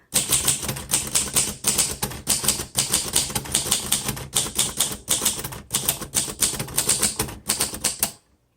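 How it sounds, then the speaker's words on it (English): A 1952 Royal Quiet De Luxe typewriter with flat tombstone keys is typed on at a steady pace. Its crisp keystrokes clack up close and loud, one after another, with small pauses here and there. "All right, let's go ahead and type."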